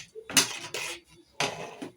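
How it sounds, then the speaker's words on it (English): A spoon scrapes and clinks around a pot of homemade tomato puree in three short strokes, close and fairly loud, with no voices. "So what I'll do now is just stir it"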